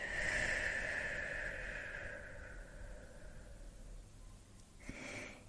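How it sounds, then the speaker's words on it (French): A slow, drawn-out breath exhaled through the mouth during a guided relaxation breathing exercise, soft and close, fading gradually over several seconds before a short fresh breath at the end; no speech. "Et ensuite on expire par la bouche."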